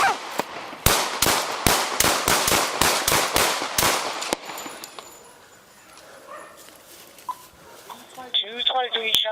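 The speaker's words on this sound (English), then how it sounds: "Shots fired." A rapid volley of about a dozen loud, sharp gunshots during an armed police confrontation in Rochester, NY, cracking close together in the first four seconds, then a quieter stretch with faint voices and a dog yelping near the end.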